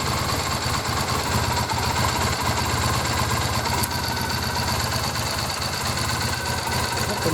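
2001 Triumph Bonneville motorcycle engine idling without choke, a steady close mechanical rumble with a fast, even pulsing throughout and no pauses.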